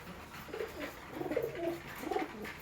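Male pigeons in a loft give soft, throaty cooing calls in a few repeated phrases, close by over a faint background hum.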